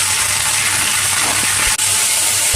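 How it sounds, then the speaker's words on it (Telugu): Coriander and mint leaves frying in hot oil in a pan for chutney: a steady, loud, even hiss that fills the whole stretch, with a faint stir partway through. "చూడండి ఎంత బాగా నూనెలో వేగిపోతుందో"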